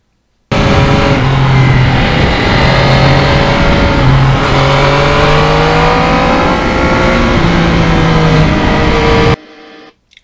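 A 2020 Yamaha MT-09 with a crossplane engine roars loudly and steadily while riding, its engine note rising and falling through gear changes, then cutting off abruptly near the end.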